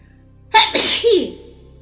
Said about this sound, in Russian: Чихнул лесной киш вспоминая пожар.